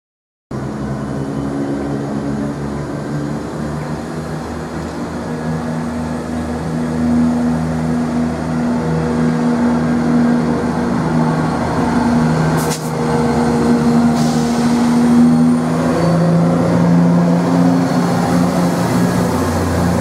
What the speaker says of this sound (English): Eight five two is just now arriving to platform 2, working the 1218 service to Norwich.